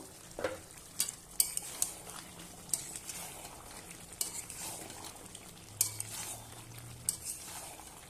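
Chicken being stirred and fried in a pan for chicken kosha with potol and potato, with a steady sizzle under repeated scraping and clinking of a spatula against the metal, close and fairly quiet.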